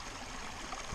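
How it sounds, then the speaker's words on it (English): A creek flows beside a wooded trail on Pennsylvania's Mid-State Trail, giving a steady, even rush of water that fills the whole moment, close and constant, with no voices. "listening to the flow of the creek"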